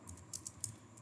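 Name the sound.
typing an npm install command on a keyboard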